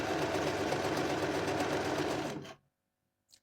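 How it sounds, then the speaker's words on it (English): Sewing machine stitching a padded bra cup, running steadily and loud for about two and a half seconds before stopping abruptly into silence. "Pull it and start sewing."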